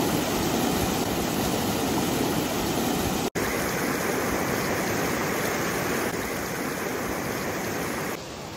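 Steady, loud rush of a waterfall in a canyon near Moab, Utah, a continuous broadband roar with no voices, briefly interrupted once before settling slightly quieter near the end.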